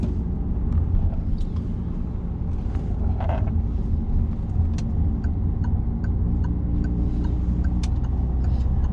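A car driving on an urban road during a driving-test route, braking slightly and shifting into second gear; a steady low engine and road rumble with wind noise runs throughout, with a few faint clicks.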